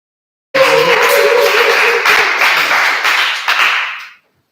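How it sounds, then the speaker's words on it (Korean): A room full of people claps together for several seconds, loud and close, the applause fading out quickly at the end. "내 영화를 우리 박수 한번 칠까요?"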